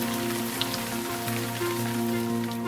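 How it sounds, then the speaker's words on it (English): Steady rain falls on a surface with a dense, even patter throughout, a few louder drops standing out, and no voices. "Listen to the rain."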